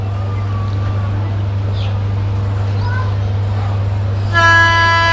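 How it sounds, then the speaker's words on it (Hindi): The Paschim Express approaches from the opposite direction past a stopped train, a steady low rumble throughout with a loud horn blast breaking in near the end; faint voices sit in the background. "सामने से पश्चिम एक्सप्रेस आ रही है"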